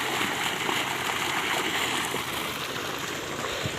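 Water pours from a solar-powered tube well pump on a portable trolley, a steady loud broadband rush and splash that runs unbroken throughout, with no voices over it.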